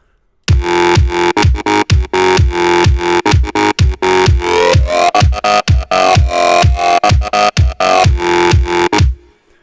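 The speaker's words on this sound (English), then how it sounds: "how to make a progressive house bass lead" A loud progressive house synth lead from a remix of a song plays in rhythmic, pumping chord stabs with a punchy beat underneath, stopping abruptly at the end.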